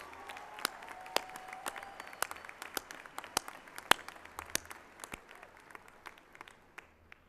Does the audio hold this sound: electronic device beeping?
no